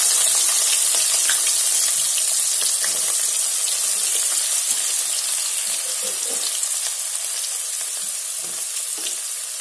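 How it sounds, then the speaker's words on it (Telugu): Chopped onions fry in a pan with curry leaves, giving a loud, steady sizzle that crackles close up. Occasional stirring scrapes run through it and there is no talk. "ఇప్పుడు ఆనియన్స్ బాగా వేగిద్దాం."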